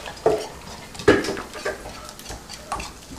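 Whisking in a bowl with sausage cooking nearby: quick, close scraping and tapping strokes against the bowl, with a few sharper clinks, over a faint kitchen background.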